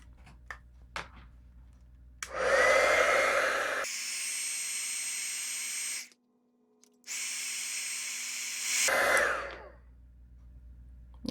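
A handheld heat embossing tool blows hot air to set embossing powder on paper, a steady loud whooshing hiss that runs in two long bursts with a brief pause between, starting and ending with a rising and falling whine.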